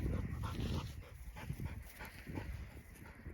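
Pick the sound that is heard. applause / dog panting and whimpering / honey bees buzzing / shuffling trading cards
dog panting and whimpering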